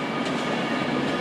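A Virgin Pendolino train pulling out of London Euston on the West Coast Main Line, bound for Birmingham New Street: a steady, fairly close rumble and hiss of rolling stock with faint rail noise, no voices.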